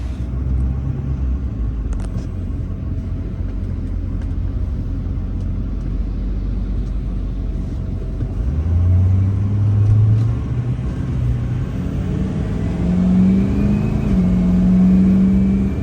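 A car rolls along the road on the drive home after a cruise, giving a steady low engine and tyre rumble with no voices, its pitch rising in slight revving surges in the second half.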